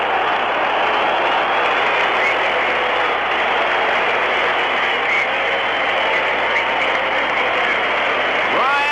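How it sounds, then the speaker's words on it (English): Fans at a 1973 Tigers home game in Detroit give a standing ovation after an Angels pitcher's no-hitter, a dense, constant roar of cheering and clapping heard as a distant, broadcast-quality wash throughout. "it's a standing ovation from the fans in Detroit, Michigan"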